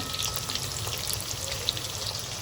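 Chicken pieces fry in a pan for chilli chicken, giving a steady, hissing sizzle with faint crackle, close and continuous, with no voices.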